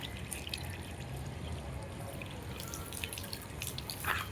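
Water running from opened taps in a house with a bathroom and kitchen, a low, steady rushing and splashing with a few brief drips and spatters near the end and no voices.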